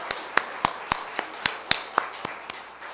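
About a dozen sharp, evenly spaced claps in a steady rhythm from a church congregation during a Sunday worship service, crisp and close against a quiet room.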